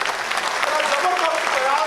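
An audience at a launch event for two Hindi and Marathi books keeps up continuous applause, a thick, even patter of many hands heard under a voice speaking over it.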